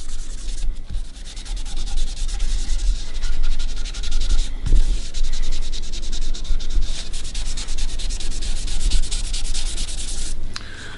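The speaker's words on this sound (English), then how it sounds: "I know if I hit it with the sander," A sander works over a quilted maple carved-top guitar body, a continuous close rasping rub that runs the whole stretch with brief pauses and no talking.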